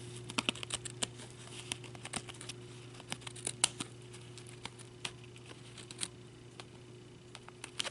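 Small detail scissors trim the edges of paper card for a gift card holder, a quiet series of light, irregular snips and clicks over a faint steady background hum.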